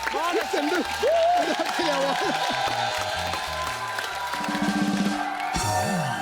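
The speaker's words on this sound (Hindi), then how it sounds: "सर इसके लिए खड़े होकर ताली बनती है" An audience giving a standing ovation on a Hindi comedy talk show, heard as applause and cheering in the background while a person talks over it throughout.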